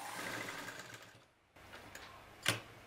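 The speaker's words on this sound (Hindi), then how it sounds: "इसको हम 1 इंच सिलाई करेंगे" A sewing machine runs a one-inch seam on a kids' nikkar, its steady mechanical whirr fading out briefly before starting again, with one sharp clack near the end.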